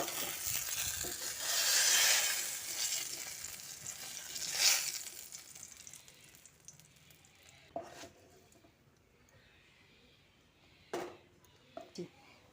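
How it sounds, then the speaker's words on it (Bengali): Brinjal pieces frying in hot oil in a pan as they are lifted out, a soft sizzle with occasional scrapes and clinks of the utensil, faint and close. "বেগুনগুলো এরকম লালচে করে ভেজে নিয়েছি এবার তুলে নিচ্ছি"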